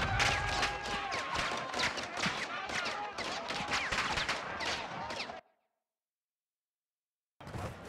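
Rapid bursts of automatic gunfire from a Call of Duty Modern Warfare 2 firefight, dense and loud for about five seconds with a voice mixed in, then a sudden cut to silence before the shooting resumes.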